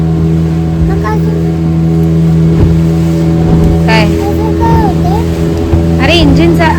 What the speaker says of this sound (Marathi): त्या इंजिनचा आवाज येतोय.